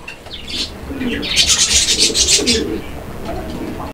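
Pigeons coo in repeated soft pulses at a pigeon sale, with a burst of chirpy calls in the middle before settling back to quieter murmuring nearby.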